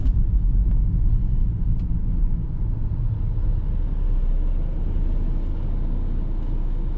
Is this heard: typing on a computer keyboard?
no